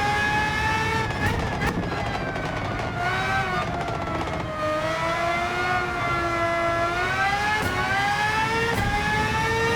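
A race car engine in Gran Turismo 7 during a Nations Cup race at Highway 1, on hard tyres, whining loudly and continuously, pitch climbing and dropping with gear shifts and throttle over a lap.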